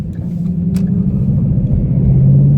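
A 2014 Mustang GT V8 rumbles steadily at idle just after starting, a loud, close, deep continuous drone with a slight rise in pitch near the end.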